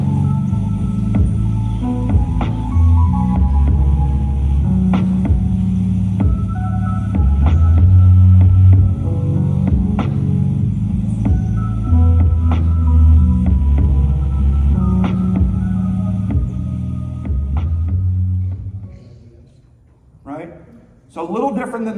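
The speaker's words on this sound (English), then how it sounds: "check out what lo-fi hip-hop sounds like" Lo-fi hip-hop music plays with a heavy, muffled low end and a subtle, soft beat over a warm humming texture, fairly loud, fading out near the end as a voice comes in.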